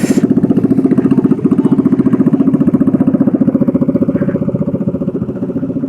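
A scooter engine with a blown exhaust gasket idles close by with a rapid, rough, puffing putter, steady and loud throughout, with a raspy chuff from the exhaust.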